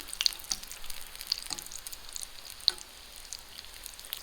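Donuts frying in hot oil in a Dutch oven at a campsite, a quiet continuous sizzle with small crackles and pops, fairly faint.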